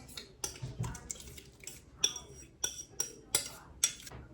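Spoon scraping and clinking against a dish while rice filling for stuffed peppers is mixed, a series of sharp close knocks and scrapes in an uneven rhythm.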